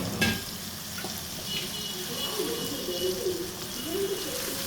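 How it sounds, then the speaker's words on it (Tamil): Masala for a South Indian fish curry sautéing in a pan, a steady sizzle and frying crackle with occasional stirring scrapes, close and moderately loud, with faint bird calls in the background. "நல்லா வதக்கி வதங்க விட்டுறணும்."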